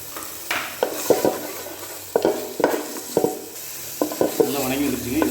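Mint, coriander and curry leaves are sautéed in a pan, with a steady sizzle under repeated scraping, stirring strokes of a spoon against the pan, close and fairly loud.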